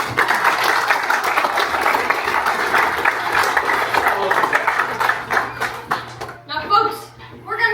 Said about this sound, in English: Now I ask another round of applause for the actors, folks.